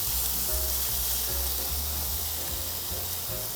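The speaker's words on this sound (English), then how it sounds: "I can see the sizzling." Beef sizzles on a Korean BBQ grill at home, a loud, continuous close-up crackle and hiss of frying fat that fills the whole stretch with no talking.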